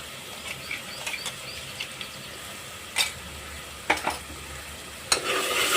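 Goat head curry with ginger-garlic paste being stirred in a pan, a few scattered scrapes and clacks of the spoon over a low sizzle, fairly quiet and close, with no talk.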